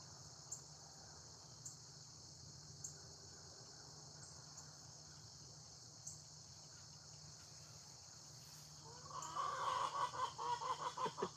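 Upset chickens cluck in a rising flurry of rapid calls at dawn, beginning after a long stretch of steady insect chirping and faint occasional clucks, then growing loud and agitated near the end.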